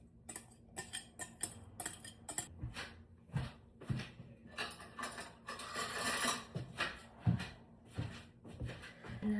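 Spoon stirring cold yogurt into small chopped pieces of potato and onion in a bowl, a run of quick clinking taps and scraping knocks, close and fairly quiet, with no talk.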